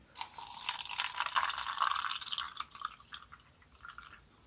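Warm water is poured into a disposable spoon holding borax, making a close trickling splash that rises, wavers and fades out over a few seconds.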